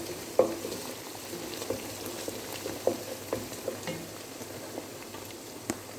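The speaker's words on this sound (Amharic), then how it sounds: "ከሽንኩርቱ ጋር ጊዜ ሰጥቼ በደንብ አበስለዋለሁ ማለት ነው።" Onions for pasta fry and sizzle in a pan at a steady low level, broken by occasional sharp taps and scrapes as they are stirred, with no talking.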